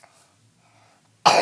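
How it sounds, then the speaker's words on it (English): A single sharp, loud cough bursts out at the very end after near silence. "Sorry for that very nasty cough."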